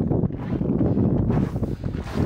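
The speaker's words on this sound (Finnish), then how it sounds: "semmonen kylmä tuuli tossa tai viima pauhaa" Cold wind roars steadily outdoors beside a cabin in Lapland, a loud broadband rush with gusts that swell and buffet the microphone throughout, with no other sounds standing out.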